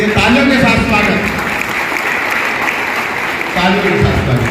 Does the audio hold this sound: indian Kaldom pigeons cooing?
no